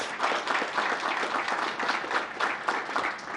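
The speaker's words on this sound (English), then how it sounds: "let's give her a round of applause" Audience applause at a welcome home ceremony in Gilbert, Arizona, a steady wash of many hands clapping together, moderately loud and sustained throughout with no talk over it.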